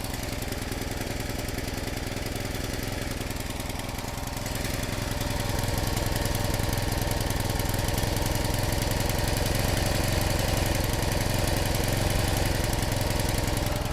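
A log splitter's small engine drones loudly and continuously while semi-seasoned oak firewood is split, and the engine note rises slightly partway through as it revs up.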